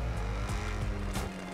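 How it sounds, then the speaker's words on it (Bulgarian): Supercar in GTA 5, its exhaust backfiring: a loud, steady engine drone broken by a few sharp pops near the start and middle. "Този бакфайер е невероятен."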